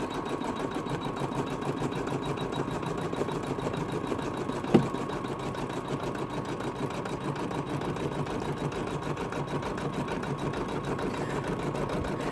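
An embroidery machine run at slow speed stitches a curved zip pouch, its needle chattering in a steady rapid rhythm close by, with a single sharp click midway and no talking.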